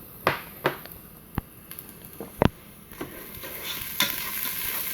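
Onions and peppers frying in a Ninja Foodi, with a continuous soft sizzle broken by several sharp scraping stirs of a utensil against the pot, close and clear, no talk.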